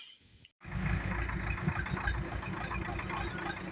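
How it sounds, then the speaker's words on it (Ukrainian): A tractor with a front loader runs close by at a steady, loud mechanical drone with a knocking rumble, after a brief cutout at the start; no one talks. "Бачимо, спочатку фронтальний навантажувач працює без питань, а потім навіска."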